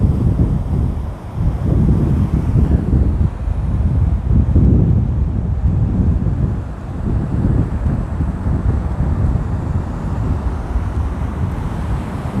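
Cool wind gusting outdoors on the coast near Monterey and Big Sur, a loud, steady low roar buffeting the microphone throughout, with no talking.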